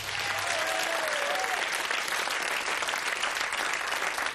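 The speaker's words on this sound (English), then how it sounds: "A round of applause, please." A television game show studio audience applauds steadily, a dense, even wash of clapping with no voices.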